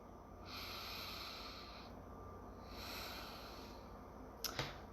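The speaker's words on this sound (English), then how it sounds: "Everybody take a breath." Two slow, deep breaths drawn in through the nose, each a soft airy hiss lasting over a second, followed by a brief faint click, quiet and close.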